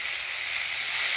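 Potatoes, drumsticks and dried pork frying in a pan give a steady, close hiss of sizzling oil that holds even throughout, with no voices.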